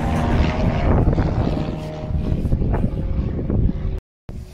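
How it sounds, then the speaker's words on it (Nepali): A propeller airplane passes overhead outdoors on a morning walk, its broad, steady drone loud and continuous with wind noise buffeting the microphone, before cutting off abruptly near the end. "उड्यो उड्यो उड्यो प्लेन उड्यो"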